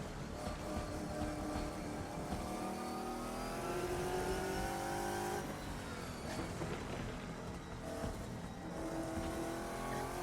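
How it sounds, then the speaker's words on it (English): The Saleen/Shadow V8 race car in Assetto Corsa roars continuously around Spa, its throaty engine note rising and falling through gear changes while lapping at a relaxed pace. "You can hear the throatiness of that V8."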